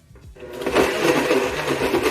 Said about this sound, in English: Now using your handy dandy blender, we're gonna blend it up.